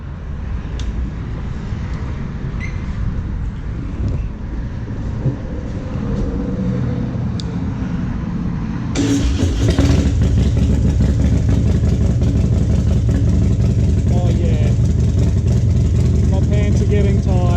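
Harley-Davidson Dyna fitted with a Screaming Eagle Stage 5 110ci kit and dyno tuned, rumbling on a first ride before the throttle opens sharply into a loud, roaring pull that holds steady under wind rush.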